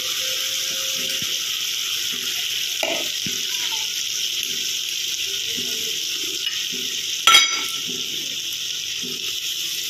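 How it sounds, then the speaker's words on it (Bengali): Gram flour (besan) paste hits a pan over a low gas flame while cooking white beans, giving a steady close sizzle throughout, with a few soft stirring knocks and one sharper clatter near the end. "যে বেসন গোলাটা রেখেছিলাম পেস্টটা, ওটা দিয়ে দেবো"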